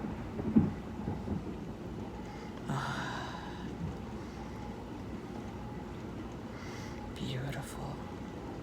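Low thunder rumbles through steady heavy rain in a rainstorm, a broad continuous roar with a few swelling peaks, heard at a distance with no clear speech.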